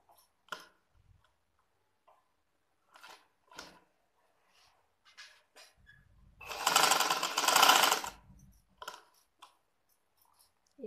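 Sewing machine stitching elastic onto a ladies' trouser, with scattered ticks and handling clicks before one sustained loud burst of rapid stitching lasting about two seconds, then more light clicks afterward.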